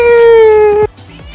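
A house cat lets out a single loud, drawn-out meow close to the microphone, followed by a short quieter trail of sound.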